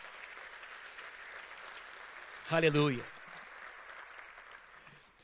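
A church congregation applauds faintly in the background, a soft continuous clapping wash, briefly overlaid by a single voice calling out.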